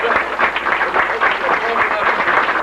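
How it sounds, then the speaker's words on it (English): A community arts event audience gives a round of applause, a thick, even wash of many hands clapping close and loud with faint crowd murmur mixed in. "Let's give them a round of applause."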